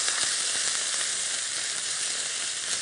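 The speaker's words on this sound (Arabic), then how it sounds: "حبتدي أشوح اللحم لغاية ما يتغير لونه عندي خالص" Minced meat sizzles in added oil on a hot saj griddle, giving a steady, even hiss of frying at close range with no talking.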